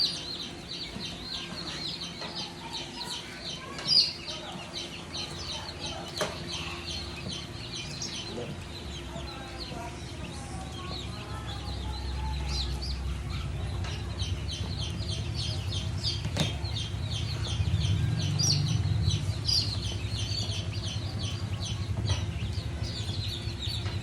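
Day-old pure white Kelso chicks cheeping, a dense chorus of high peeping from many birds throughout, with a low rumble and background noise rising midway and faint distant voices.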